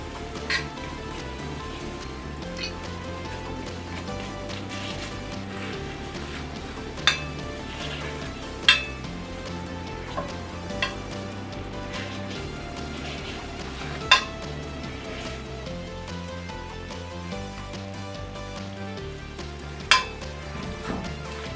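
Carrots frying in a pan for a brown sugar honey glaze give a steady, soft sizzle throughout, broken by occasional sharp pops and spatters.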